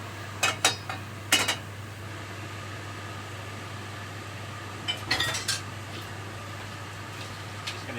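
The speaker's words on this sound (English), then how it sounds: "Just going to do a bit of washing up while I'm here" Dishes and cutlery are washed up in a kitchen, with a few scattered clinks and clatters near the start and again later over a steady hum of appliance noise, no talking.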